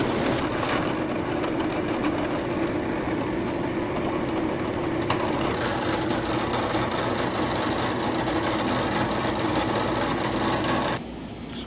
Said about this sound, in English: Now we're going to drill them.